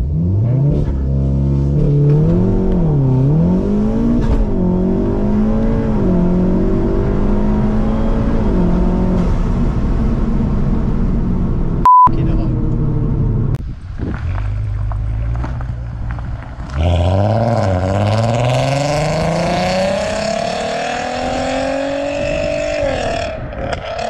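A Volkswagen Golf R MK7 with Stage 2 tuning accelerating hard toward 60, its engine note climbing through rising revs with clear gear changes, then a brief drop before pulling strongly again, loud and close inside the cabin.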